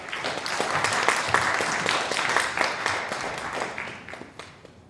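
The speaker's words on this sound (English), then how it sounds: "So please, a round of applause for Jason." A room full of students applauds for a guest speaker at a school talk, dense steady clapping swelling early then gradually thinning toward the end, with no voices over it.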